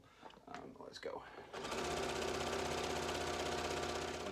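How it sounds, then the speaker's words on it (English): A sewing machine stitches down folded, ironed fabric ribbon with a 1/4 inch presser foot, starting after a few quiet handling sounds and then running steadily and loudly at a constant whirring speed to the end. "with it ironed in half and your 1/4 inch foot on the machine, just run that through and hello pedal, let's go"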